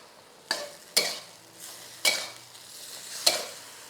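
Stir-frying vegetables with dried bean curd sticks, glass noodles, sweet peas and mushroom sauce in a pan: four sharp scraping tosses at irregular intervals over a soft, steady sizzle.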